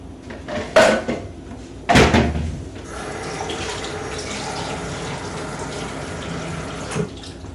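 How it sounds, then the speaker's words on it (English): Water is poured from a container over potatoes in a pan for an oven pot roast. Two splashy bursts open the pour, followed by a steady rushing stream that runs to the end. "what I'm doing is just adding in my water"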